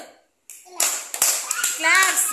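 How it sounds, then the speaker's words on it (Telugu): Small children in an anganwadi rhyme class clap their hands in a quick, uneven burst of claps, with young voices chattering over it close by. "Very good. క్లాప్స్"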